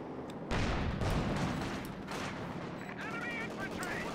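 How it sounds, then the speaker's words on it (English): A Stuka attack in a World War II strategy game sets off a loud, continuous rumble of explosions and gunfire that swells suddenly and keeps going, with a voice speaking over the din toward the end. "We have got the Stuka coming out."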